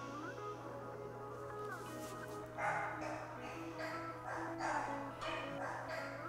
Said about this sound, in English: There's a dog barking outside.